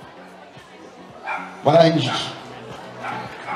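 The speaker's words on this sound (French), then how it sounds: "Alors, c'est un berger blanc suisse." At a dog show, a white Swiss shepherd gives a short burst of barks and yips, close and fairly loud, with a person speaking French over and around the barking.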